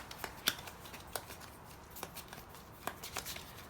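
A deck of game cards being shuffled by hand for a solo tabletop playthrough, giving a run of crisp, close riffling snaps and papery flutters in irregular bursts, with no talking.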